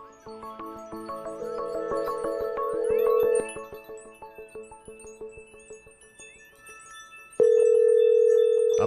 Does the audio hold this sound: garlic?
no